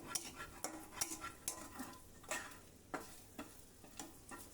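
Chicken rice being stirred in a pan, with quiet scraping and clinking of a utensil against the metal in irregular strokes over a soft sizzle, close and fairly faint.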